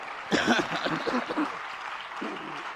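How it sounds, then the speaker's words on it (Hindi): Applause from an audience at a Jain religious discourse session, a brief burst of clapping mixed with chuckling and murmured voices, swelling early then settling into a softer patter. "जोरदार तालियां"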